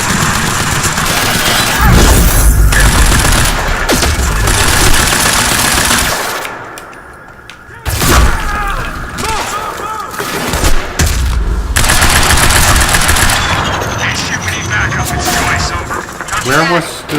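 Rapid bursts of automatic gunfire rattle through an intense shootout in the Quantum Break video game, loud and sustained with a brief lull midway, then more volleys, impacts and crashes, with voices shouting at moments.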